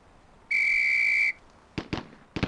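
On a police firing range in Police Quest SWAT, a shrill, steady whistle blast holds for under a second, then a few sharp gunshots follow in two quick pairs.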